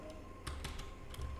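A few quick, quiet keystrokes tapped on a computer keyboard, irregular clicks over a faint background hum.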